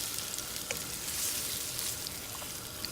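Shrimp seasoned with salt, pepper and Italian seasoning sizzle steadily in a hot pan, a close, bright crackling hiss with scattered pops throughout.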